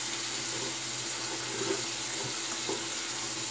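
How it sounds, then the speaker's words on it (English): A bathroom tap runs steadily into a sink as a man wets his face before a wet shave, a continuous close hiss of water with a few faint splashes and knocks. "get some water on my face"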